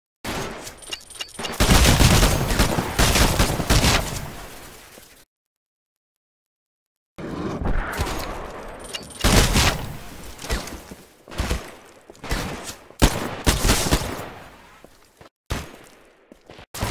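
Rapid automatic gunfire from a live fire training exercise in the shooter game Titanfall, loud and close in dense sustained bursts, broken by a two-second silence before more volleys of shots.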